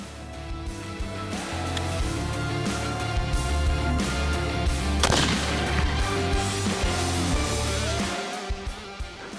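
A single sharp rifle shot cracks out midway during a hartebeest hunt in the African bush, a loud broadband burst standing out from a steady background of ambient noise and music, with no talking.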